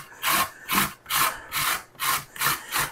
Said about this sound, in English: So I'm just going to grate all the zucchini.